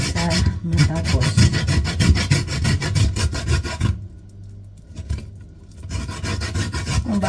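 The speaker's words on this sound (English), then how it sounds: "So first we grate the cassava." Cassava root grated by hand for a steamed cassava cake, a loud, close rhythmic rasping of rapid strokes that drops out briefly near the end before resuming.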